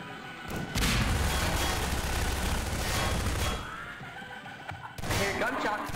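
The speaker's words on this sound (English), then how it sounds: "I hear gunshots." Gunfire in the video game Prop Hunt, a dense burst of booming shots and thuds over several seconds, fairly faint in the mix with a short lull before another volley, and players' voices mixed in.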